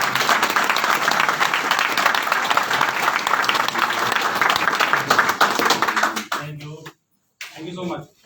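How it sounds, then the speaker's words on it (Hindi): Loud, dense applause from a seated audience at a business seminar rolls on steadily, then cuts off abruptly and resumes briefly with a few scattered claps. "राजेंद्र पाल सर के लिए जोरदार तालियां होनी चाहिए।"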